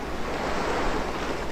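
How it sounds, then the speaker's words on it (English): Ocean surf in the game Wadanohara, a loud continuous wash of waves with a windy roar, steady and close, without any talk. "The ocean."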